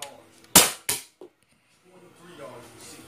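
A toy gun fires two sharp, close pops in quick succession, followed by a faint click. A person then talks quietly in the background.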